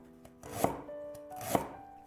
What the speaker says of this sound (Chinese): 一块生姜先切成姜片，